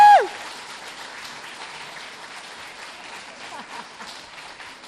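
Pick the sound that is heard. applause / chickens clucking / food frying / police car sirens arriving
applause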